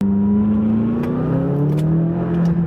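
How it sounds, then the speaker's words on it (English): McLaren 570S turbocharged engine revving loudly and steadily, its pitch climbing smoothly through a sustained, close run with no talk over it. "So I love this turbo motor."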